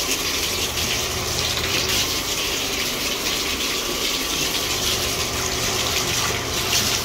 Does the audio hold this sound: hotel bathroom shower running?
yes